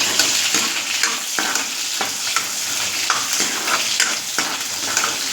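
Green chilies fry and sizzle steadily in a pan for a spicy besan dish, with a spoon or spatula scraping and stirring at irregular intervals over the continuous crackle, close and fairly loud.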